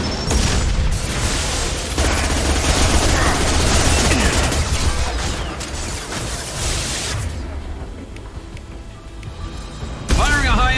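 Gunfire and explosions from the video game Mass Effect burst in dense, loud volleys of booming shots and blasts, with voices calling out amid the combat and a brief lull before more firing.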